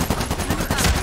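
Bursts of rapid machine gun fire crack loudly and up close in the video game Medal of Honor Warfighter, several quick shots in a row with no talking.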